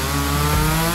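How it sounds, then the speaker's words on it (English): A chainsaw runs loud and close with a steady buzzing whine that deepens midway as it bites into something during a food challenge. "Chainsaw?"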